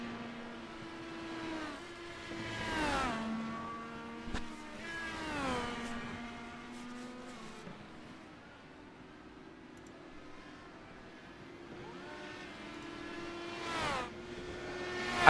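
IndyCar race cars in the iRacing sim roll down pit road, engine tones rising and falling as several cars pass one after another, with quieter stretches between them.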